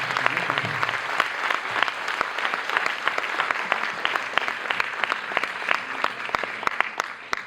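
Audience at a conference conversation session applauding steadily throughout, a mid-sized crowd clapping at moderate distance with a brisk, continuous patter.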